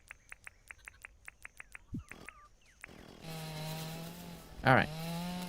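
In the video game Dinkum, a chainsaw revs up with a steady buzzing motor drone and a sharp louder burst near the end, following a stretch of rhythmic insect-like chirping ambience.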